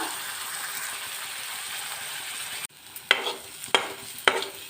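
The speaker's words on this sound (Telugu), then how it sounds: "కాగిన ఆయిల్లో ఈ పేస్ట్ వేస్తున్నా చక్క దగ్గరే ఉండి రెండు నిమిషాలు వేయించాలి" Ginger paste frying in hot oil hisses steadily, then drops to a quieter crackle punctuated by three sharp utensil clinks as it is stirred.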